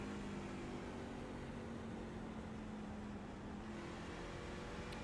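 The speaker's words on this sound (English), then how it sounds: "As we hear him just really smooth on that throttle, really waiting for that truck to turn." Racing truck engine in a racing video game at Phoenix, a steady droning hum with a constant tone held on smooth throttle, low and even throughout, without talk.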